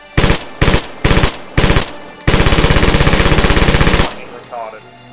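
Automatic fire from a PPSh submachine gun with a drum magazine in Red Orchestra: four short loud bursts, then one long sustained burst of rapid rhythmic shots, followed by fading echoes and faint clatter.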